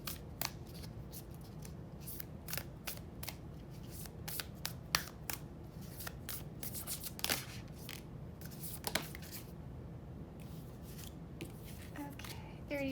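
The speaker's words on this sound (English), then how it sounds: "I'm gonna keep shuffling because that was only one card." Rapid papery riffles and soft card slaps from shuffled tarot cards repeat in bursts, close by, with quiet pauses between shuffles.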